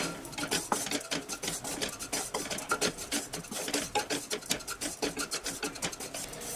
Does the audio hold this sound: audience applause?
no